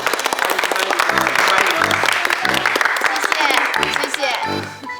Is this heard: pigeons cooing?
no